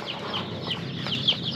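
Laying hens clucking in a coop, a dense murmur of soft clucks with a few brighter calls over steady background noise.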